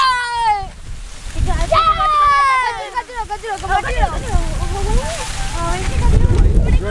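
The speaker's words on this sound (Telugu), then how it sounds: "ఫ్రెండ్స్ ఎంత గాలి వస్తుందో" Strong wind sweeps across a campsite on a cricket ground, gusting loudly against the microphone while excited voices talk and exclaim over it.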